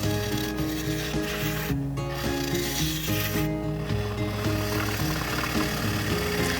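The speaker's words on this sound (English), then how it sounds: "I ride the bevel of the bowl gouge and turn it as I proceed to follow the curve that I want to make" A bowl gouge hollows the inside of an avocado wood bowl spinning on a lathe, giving a continuous rough scraping and rasping with a steady motor hum beneath, close and moderately loud, with no talking.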